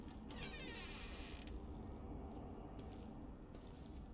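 A kitten meowing in the horror video game The Evil Within 2, a faint, thin mewing cry near the start over a quiet ambient drone and soft creaks, with no talking.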